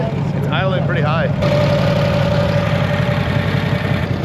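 A 1950s Harley-Davidson Panhead motorcycle engine idles fast at a steady, throbbing pulse close by, with a brief voice over it at the start.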